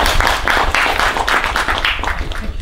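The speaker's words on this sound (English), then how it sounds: "let's do one more round of applause" An audience at a lecture gives a round of applause, a dense rapid clatter of many hands clapping at close range that holds steady for a couple of seconds.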